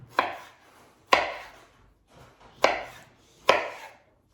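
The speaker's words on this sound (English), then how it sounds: "Slicing these first, and then I'm gonna just cut them pretty much into little cubes." Knife on a cutting board chopping tomatoes into small cubes for Tex-Mex pork tacos, four separate close, crisp thuds spaced about a second apart, with nothing else around.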